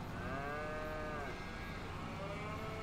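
Cows mooing in the Farming Simulator 25 cow barn, a long drawn-out moo followed by another lower call, steady and close with a constant background hum.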